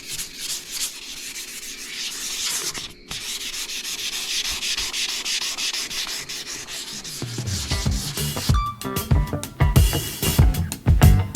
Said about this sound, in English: I know I'm going to be doing some sanding all over this here.